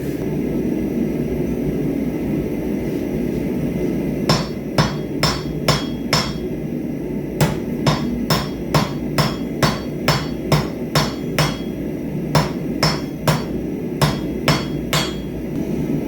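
Hammer blows on hot steel being forged into a leaf-shaped keyring, with some twenty sharp, ringing strikes in quick bursts separated by short pauses, loud and close over a steady low forge rumble.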